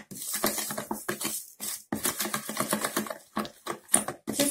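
Dough ingredients of egg, salt, sugar and flour stirred in a bowl for a Tatar three-layer pie, quick rhythmic scraping and tapping strokes repeating steadily up close, fairly quiet.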